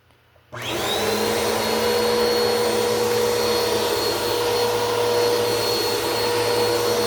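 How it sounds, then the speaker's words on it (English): A Bissell Power Force Helix 2191U upright vacuum cleaner switches on and runs at a loud, steady roar with a high motor whine, close up and alone, after a brief quiet moment. "let's go ahead and show you a test run of the Bissell Power Force Helix 2191U"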